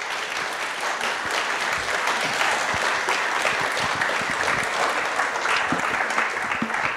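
An audience at a public health talk on irritable bowel syndrome applauds, a full, continuous round of clapping from a crowd that stays loud and steady for about seven seconds.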